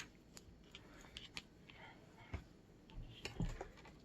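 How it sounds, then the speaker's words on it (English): Scissors snip through excess material while a Bible clip is being made, giving a few quiet, close clicks and cuts over a faint background hiss. "I'm going to cut some of this excess off"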